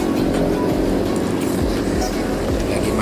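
A public transport bus run by the South Sulawesi provincial transport agency passes on a busy city street, its engine a steady loud rumble blended with surrounding traffic noise, no voices.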